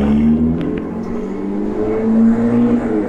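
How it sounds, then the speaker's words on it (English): A yellow Ferrari sports car passes close by on a downtown Toronto street, its engine a steady loud roar over traffic and road noise as it drives past. "whoa, yellow Ferrari"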